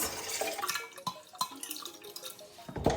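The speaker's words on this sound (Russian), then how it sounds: "И переливаю эту воду вот сюда в заварку." Water poured from a thermos into a rye bread scald made with molasses, a steady splashing pour close up that lasts through the whole stretch, with no talking.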